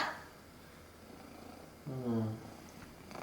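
A small cat purring up close, a soft low rumble that swells briefly near the end, with a voice talking gently nearby.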